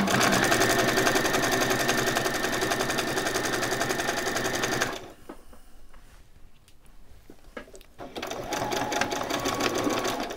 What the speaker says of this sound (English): Take it to the machine and just machine straight across your sleeves.